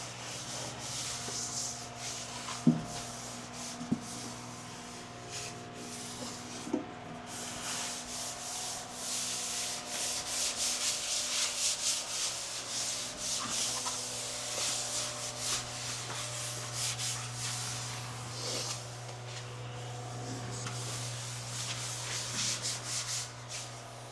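A tack cloth wipes down the bare body of a 1979 Mustang before primer with a continuous soft rubbing swish over a low steady hum, close up, with a few light taps and no talking.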